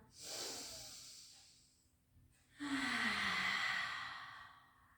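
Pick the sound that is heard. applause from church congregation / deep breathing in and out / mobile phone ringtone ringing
deep breathing in and out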